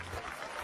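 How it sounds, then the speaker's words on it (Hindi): Brief burst of applause from a village gathering, a quick wash of clapping, fairly faint and distant with no voices over it. "तालियां बजाओ"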